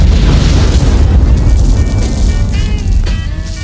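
Loud, rumbling explosion detonates in a Vietnam War film battle scene, a sustained low boom filling the whole clip with faint shouting voices in the background.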